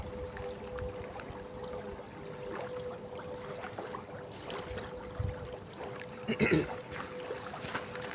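A bait boat motors across the water during flat feeder fishing on a cold spring day, giving a steady hum with soft water noise and a brief louder splash near the end while people talk nearby.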